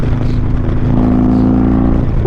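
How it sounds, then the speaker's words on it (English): A motorcycle engine roars loudly close by on the interstate, a steady throaty drone that swells slightly as it rides past. "that bike sounds good"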